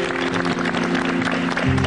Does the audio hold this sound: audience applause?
yes